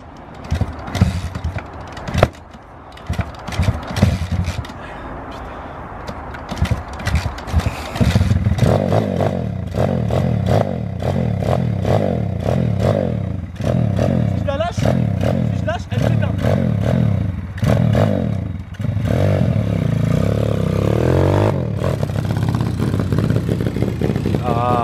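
A dirt bike revs hard with a loud, roaring engine and a rough, clattering chain noise, running almost continuously and cutting briefly near the start. People talk over it throughout.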